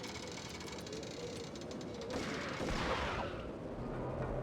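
Gunfire in Max Payne: a few muffled shots and mechanical clatter over a steady rumbling game background, building to a louder burst near the end.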